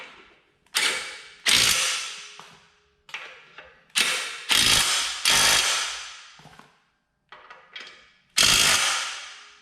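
Hand ratchet snugging brake caliper bolts on a GMT800 pickup, repeated bursts of loud clicking strokes with brief pauses between them, close and alone.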